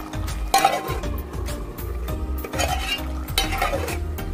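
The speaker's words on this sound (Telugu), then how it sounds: "బాగా కలుపుకుందాము ఒక్క నిమిషం ఉడికించుకొని మనం స్టవ్ ఆపేద్దాం" A prawn, egg and drumstick curry is stirred in a pan, the spoon scraping in steady repeated strokes over a continuous close, loud sizzle, with no one talking.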